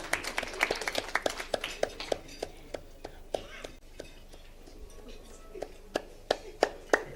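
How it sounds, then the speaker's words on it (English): An audience at a graduation ceremony claps in loose, scattered rhythm, each clap crisp over a soft murmur of voices in a large hall. "Let's clap for Honorable Senator Maina."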